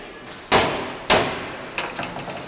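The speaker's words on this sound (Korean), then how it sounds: "그런데 이리저리 바꾸는 망치 종류가 한눈에 봐도 여러 가지다." Hammer blows on the steel front panel of a personal safe being hand-fitted in a workshop: two loud, sharp metallic strikes about half a second apart, then a cluster of lighter taps.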